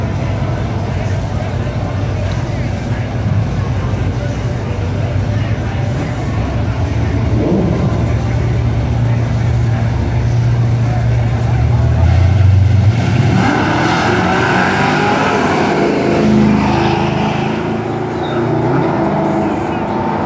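Gray and pink Ford Mustangs drag race side by side, with a loud, sustained engine roar building into a rising, revving surge that fades slightly toward the end; crowd voices and speech carry underneath.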